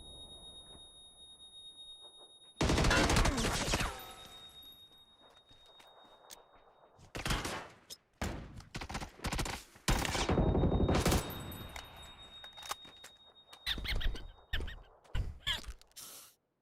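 Gunfire in PUBG, loud bursts of automatic fire and single shots in clusters separated by quieter stretches with footsteps.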